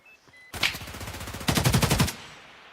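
Unsuppressed automatic gunfire in Escape from Tarkov during a tournament match: a loud, sustained burst of rapid shots, then a second, denser volley that cuts off sharply, with no talking.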